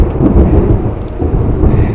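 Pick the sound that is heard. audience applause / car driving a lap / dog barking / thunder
thunder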